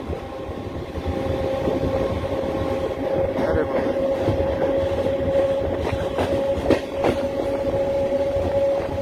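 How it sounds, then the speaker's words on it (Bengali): A train running on the Asansol to Purulia line toward Adra gives a steady close rumble with a strong droning tone, light rhythmic clatter of the wheels and occasional sharper knocks. No one speaks. "আর এই আমাদের ট্রেন যাচ্ছে আদ্রার দিকে।"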